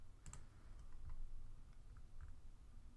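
A few faint, sparse keystrokes click on a computer keyboard against a low, steady room hum.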